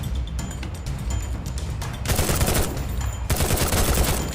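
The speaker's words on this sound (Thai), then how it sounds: "แล้วจังหวะนี้ผมยิงหมด ยิงหมดอะจังหวะนี้" Rapid automatic gunfire from a Free Fire video game match, dense bursts and continuous rattling volleys that grow louder and thicker partway through, with no talking.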